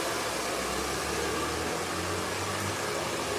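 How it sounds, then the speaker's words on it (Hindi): An Ikonic blow dryer runs steadily during a live haircut, giving a continuous loud whooshing roar that holds at an even level throughout with no talk over it. "ये हम जो ब्लो ड्रायर का यूज़ कर रहे हैं वो है आइकॉनिक का ब्लो ड्रायर है।"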